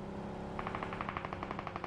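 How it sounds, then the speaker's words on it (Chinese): Rapid bursts of automatic gunfire from a battle royale shooter game, a steady rattling series of shots heard at a distance over continuous game background noise, with no talking. "有枪声，防区有枪声"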